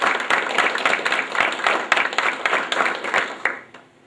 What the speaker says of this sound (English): Now I want you all to clap for about 5 seconds.